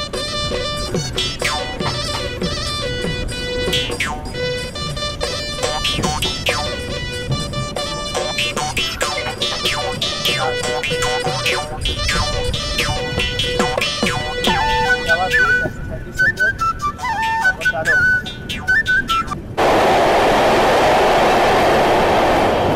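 The Sairang–Kolkata Express crosses a rail bridge with a loud, continuous metallic roar and rapid clattering of wheels over the joints, heard up close from on board before the sound changes abruptly near the end.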